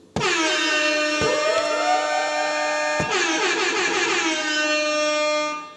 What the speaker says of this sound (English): use the sampler just to shoot off the all too common horns or sirens